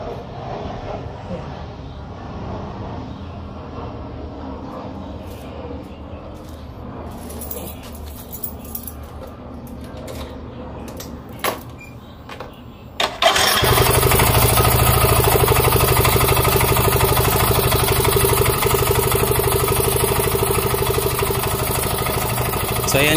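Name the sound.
scooter engine running loudly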